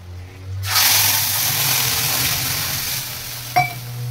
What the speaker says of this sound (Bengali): ডালে ফোড়ন দেওয়া হয়ে গেছে